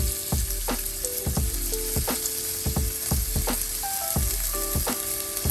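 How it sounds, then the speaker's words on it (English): Oyster mushrooms sear in a hot pan, a loud continuous sizzle broken by regular stirring scrapes and clacks roughly every half second, close up with no talking. "I am ready to put the oyster mushrooms in to start getting seared."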